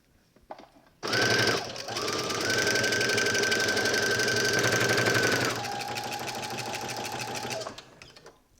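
Sewing machine stitching a side seam on a knit dress, a steady fast mechanical whir running for several seconds, briefly pausing and easing to a slower run before stopping, close and fairly loud with no speech.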